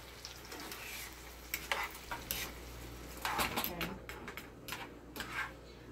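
A spoon stirs a sizzling mixture in a pan for buttered catfish, giving irregular close scrapes and clinks over a soft background frying hiss.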